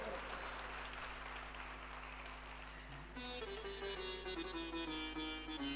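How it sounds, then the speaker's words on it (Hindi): An audience at a religious Ram Katha discourse applauds in a continuous, moderately faint patter of clapping, joined midway by a harmonium-like musical tone. "तालियां बहुत कमजोर है।"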